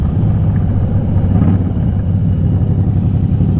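A Harley-Davidson Deluxe motorcycle with its exhaust baffles removed rumbles loudly and steadily at close range in a deep, continuous engine drone.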